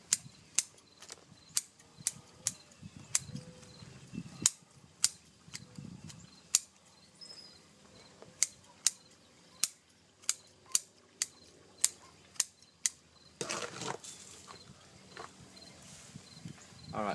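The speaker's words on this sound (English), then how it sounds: "keep your root shears sharp" Sharp root shears snip bonsai root tips on a yaupon holly, a long series of crisp, close clicks spaced roughly a second apart, with soft rustling of roots between cuts and a burst of handling noise near the end.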